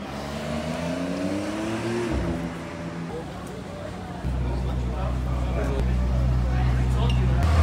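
A Lamborghini supercar engine roars in Monte Carlo, its pitch rising as it revs, then settling into a deep, loud rumble, close by on a street with people talking over it.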